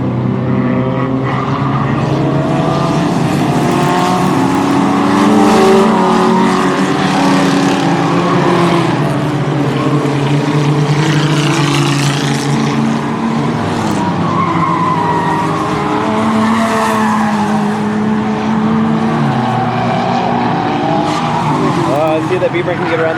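A BMW race car, earlier wrecked and repaired, rejoins a 24 Hours of Lemons endurance race, its engine droning steadily with tire noise and other cars passing, under continuous excited commentary.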